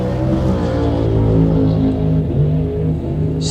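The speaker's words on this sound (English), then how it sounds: "watch this car pull the wheels" A drag race car at a bracket race launches hard and pulls its front wheels up, its engine roaring loud and close in a steady, sustained drone with layered harmonics.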